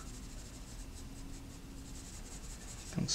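Soft, steady pencil shading strokes rasping on drawing paper while a face is being shaded, slow and quiet, close up, with a faint brief knock near the end and no voices.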